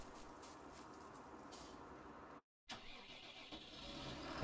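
A tractor engine in a farming video game cranks and fires up, a steady mid-pitched mechanical rumble that cuts out briefly before the engine catches again and runs on, loud and close.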